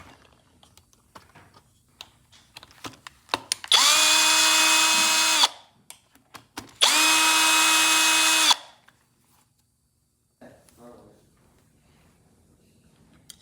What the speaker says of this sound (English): now we gotta take out these 4 screws.